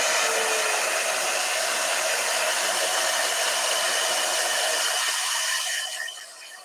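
A hair dryer blows with a loud, steady whooshing whir, running continuously before the sound drops off near the end.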